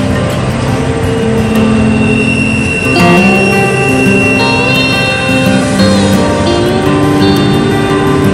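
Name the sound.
HO scale model BNSF manifest freight train running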